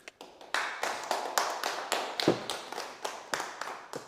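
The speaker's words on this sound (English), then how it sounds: "thanks for the clap, guys" Small group of people clapping in a steady run of sharp, close hand claps lasting several seconds, with no talking over it, at the end of a hunting talk about thermal clip-on scopes.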